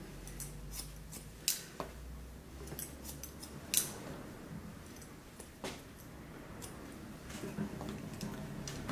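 Scissors snipping short human hair about five centimetres long, sparse crisp metallic cuts at irregular intervals, close and quiet, with faint handling noise between snips.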